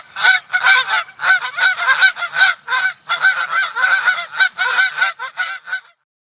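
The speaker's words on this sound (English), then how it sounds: "a flock of geese glided serenely across the water" A flock of geese on a lake honks in a rapid, clamorous chorus, overlapping calls pulsing in quick bursts for several seconds at close range before falling silent.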